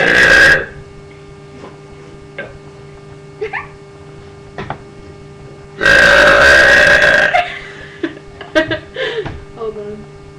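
Two long, loud burps from a burping contest, one at the start and a bigger one midway, with short faint vocal noises and murmurs between them.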